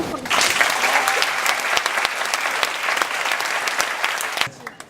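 A lecture audience of college students claps to welcome the mayor of Daegu onto the stage, a dense, steady burst of many hands that holds loud for about four seconds and then quickly fades.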